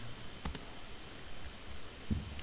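Computer keyboard, two quick close key clicks followed by a single softer keypress, faint and sparse against a quiet room background.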